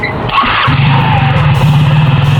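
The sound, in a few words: scooter engine revving up to wheel speed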